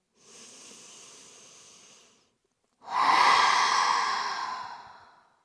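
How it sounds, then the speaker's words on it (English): A deep breath drawn in through the nose during a slow yoga flow, preceded by a softer breath: two long airy rushes, the second louder and fuller, close and alone with no talk. "Inhale deeply through your nose"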